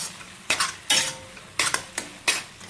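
Pumpkin halwa being stirred in a pan: close, sharp scrapes and clinks of a spoon against the pan in about five separate strokes, with faint sizzling between them.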